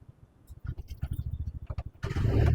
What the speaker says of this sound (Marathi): काय गाडीचा आवाज